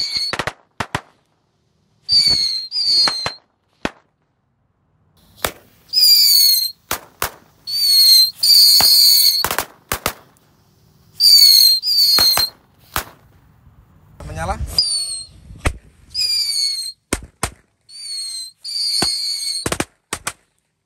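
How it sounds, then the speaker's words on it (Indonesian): Large XXL Cobra smoke firecrackers set off under a water-jug cover burst in rapid crackling volleys with sharp whistling pops, loud and close, separated by short silences, with a voice talking briefly amid the bangs. "Kita nyalakan mercon smoke XXL smoke KTP paling besar."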